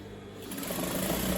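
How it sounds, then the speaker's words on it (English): A sewing machine stitches a fabric scrunchie tube close to the edge, its motor whirring up to a steady, fast, close hum over a brief run with no voices. "to make the tube, and once again I'm stitching right close to the edge."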